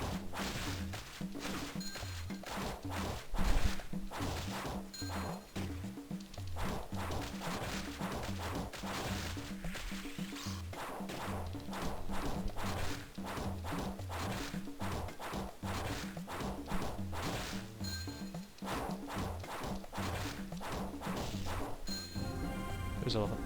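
A glitched level-up sound effect from the DS video game Tak 3 loops over and over in a rapid, repetitive pattern, layered with game music and punchy hits.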